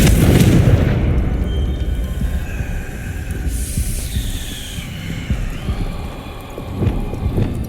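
A Confringo fire spell bursts in Hogwarts Legacy with a loud booming explosion at the start, followed by a rumbling, echoing tail and softer whooshing spell effects.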